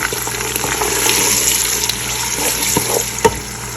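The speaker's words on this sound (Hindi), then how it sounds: "ऑयल गर्म होते ही इसमें शामिल कर देंगे प्याज, और अब प्याज को करेंगे अच्छे से, प्याज को करेंगे ब्राउन।" Onions frying in hot oil in a pan, a steady dense sizzle and crackle filling the whole stretch with a few small pops and knocks, close and fairly loud, no voices.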